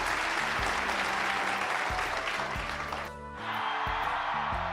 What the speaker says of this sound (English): Listen to that cheer.